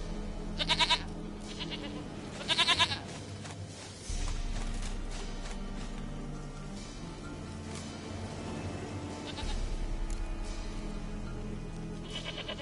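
In The Witcher 3 video game, a goat bleats twice in short quavering calls over a low ambient hum and soft game music, the cries fairly faint and close together near the start.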